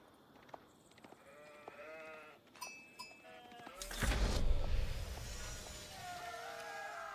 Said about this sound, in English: There's obviously you see a lot of sheep on this map.